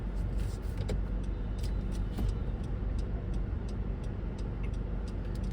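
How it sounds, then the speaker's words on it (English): Road traffic on a busy street along the Hip Strip in Montego Bay, Jamaica, on a hot summer day: a steady, moderately faint rumble of passing vehicles with light ticking over it and no voices. "Traffic is on the road."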